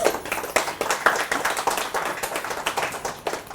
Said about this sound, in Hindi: हम सभी उनका ज़ोरदार तालियों के द्वारा अभिनंदन करेंगे।